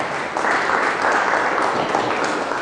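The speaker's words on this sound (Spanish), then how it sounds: "por favor recibámoslo con un caluroso aplauso" Audience applause welcoming a speaker to a lecture on ultra-high-energy cosmic ray astrophysics, a steady broadband wash of many hands clapping that swells after a brief softer start and holds throughout.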